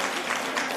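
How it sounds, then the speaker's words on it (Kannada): An audience at a stage performance claps together in a brief, dense burst of applause, a continuous even patter filling the space. "ಚಪ್ಪಾಳೆಗಳನ್ನ ಜೋರಾಗಿ ಹಾಕಿ"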